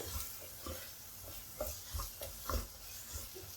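A spoon stirs thick masala with tomato around a pan in soft, irregular scrapes and light thumps over a faint low sizzle, quiet and close, with no talking.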